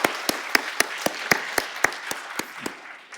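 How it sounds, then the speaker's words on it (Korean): Thank-you applause for a church choir and orchestra, heard as a few slow, distinct claps in an even rhythm that thin out toward the end, fairly close and clear. "오늘도 찬양으로 섬겨준 성가대학 오케스트라에게 한번 감사의 박수 한번 돌릴까요?"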